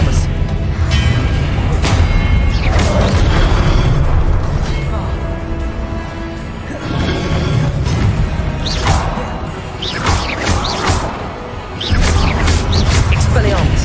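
Disarming spell casts during Hogwarts Legacy combat: a long run of loud cracks, booms and sharp impacts over a constant rumble, bursts arriving every second or two with brief dips between volleys.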